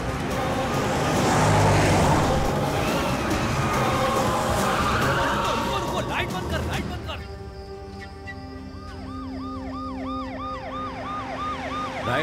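A car racing in a chase scene of a dubbed action thriller film, with a loud, close engine roar and tyre noise, then wailing emergency sirens rising and falling over a rumbling background, with voices shouting over it.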